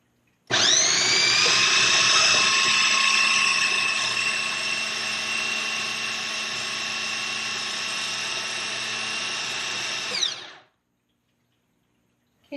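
Homemade cat treat dough being chopped in a food processor or blender, a steady loud motor whir running for about ten seconds, gradually easing slightly in pitch before stopping abruptly.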